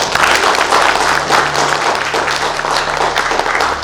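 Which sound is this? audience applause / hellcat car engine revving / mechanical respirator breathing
audience applause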